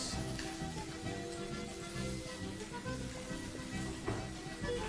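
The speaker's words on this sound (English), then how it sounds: "we're just going to let that simmer for a little while" Sauce for grilled tilapia simmering in a pan gives a steady, dense bubbling sizzle that stays at an even level throughout, with a few slightly louder pops and no talking.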